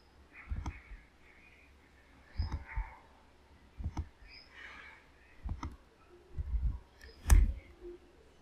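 A computer mouse clicks several times at irregular intervals while setting up a virtual machine installer, short sharp close taps separated by quiet pauses.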